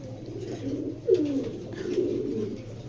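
Racing pigeons with race chips on their legs coo at a farm, low soft throaty calls from a few birds nearby, one fuller coo standing out midway over quiet background murmuring.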